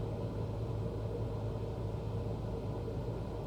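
Cessna Skyhawk piston engine in Microsoft Flight Simulator 2024, a steady low droning rumble held at constant power on approach, even and continuous with no voices.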